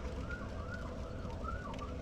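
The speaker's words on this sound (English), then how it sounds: "It's not the police, it's the fucking ambulance." An ambulance siren passes on a road outside, faint and distant, its wavering wail drifting through steady low background noise.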